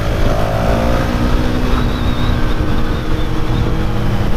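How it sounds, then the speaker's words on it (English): A loud, steady triple-cylinder motorcycle engine drone with a continuous growl and slight pitch wavering, sounding close by without any talking. "It sounds damn good, that bike though."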